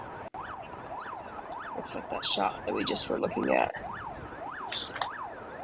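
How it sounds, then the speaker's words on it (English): Wailing emergency vehicle sirens rise and fall repeatedly from police and rescue forces responding to a shooting at a concert hall near Moscow, heard through played news footage, steady and fairly loud with bursts of crowd noise and someone talking over them. "You can hear the sirens in the background"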